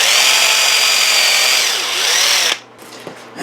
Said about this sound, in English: Now if you have a drill, just a simple matter of going into the center of the opening there.